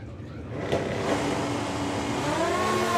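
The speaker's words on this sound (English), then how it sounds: "Again, a green light drag race." Drag race cars accelerate hard off a green light at the STP Sportsman Nationals, a loud, sustained engine roar that builds and rises in pitch over a few seconds, with no voices over it.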